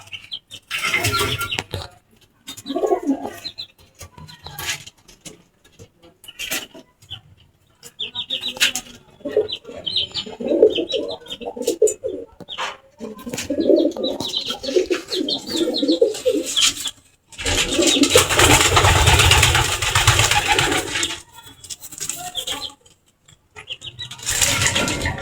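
Pigeons at a pigeon farm coo and flutter close by, with broken calls and bursts of wing-flapping, including one loud, sustained stretch of flapping.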